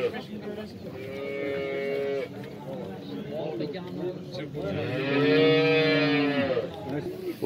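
Dairy cows at a busy livestock market moo in long, drawn-out calls, one near the start and a louder, closer one later, with people talking over the steady crowd noise.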